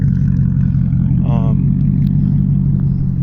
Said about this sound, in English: I know the car isn't running properly, that's why it sounds like that.